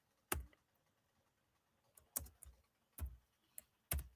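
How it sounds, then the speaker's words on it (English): Clicks from a computer keyboard being typed on, a few sharp isolated keystrokes with gaps between them, close and fairly quiet with no one talking. "Now I'm typing."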